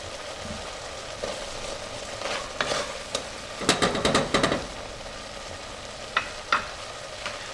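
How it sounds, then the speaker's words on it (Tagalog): Coconut milk for spicy ginataang hipon bubbles gently in a pan, a soft simmering hiss broken by clusters of utensil scrapes and clinks from stirring, near and fairly quiet. "So mapapansin niyo guys, unti-unti nang kumukulo itong ating gata, hahaluin lang natin."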